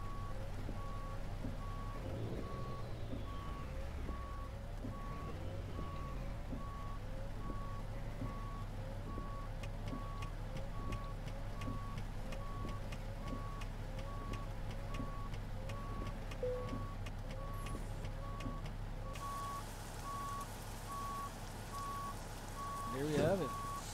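In a trucking video game, a truck reverses to hook up a trailer, giving a long run of regular, evenly spaced reversing beeps over a low engine hum, fairly quiet throughout.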